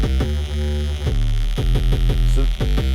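A heavily distorted sub bass synth plays a rhythmic line of short repeated notes for the amen break section of a drum and bass track, gritty and harmonically rich, loud and upfront.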